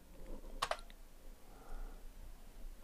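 A few quick keyboard key presses clustered together, close and fairly quiet, as a single key is tapped to answer yes at a prompt during an Anaconda install on Ubuntu 16.04, with soft room noise around them.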